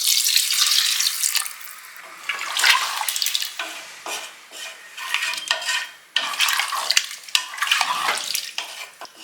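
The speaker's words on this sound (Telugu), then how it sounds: "ఒక 2 గ్లాసులు నీళ్ళు యాడ్ చేసుకుంటున్నాను నేను." Two glasses of water pour into a tomato-based country chicken curry in a pressure cooker, a bright rushing splash that swells and breaks off in several bursts, close and fairly loud with no voices.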